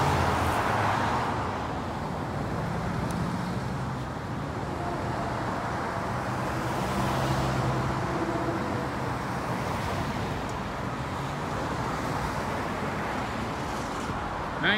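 Road traffic on the 78 highway passes at a distance, a broad, steady rush of tires and engines with slight wind buffeting, swelling and fading softly throughout with no voices.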